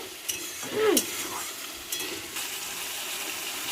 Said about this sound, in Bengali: আমার মশলায় তেল ছেড়ে আসছে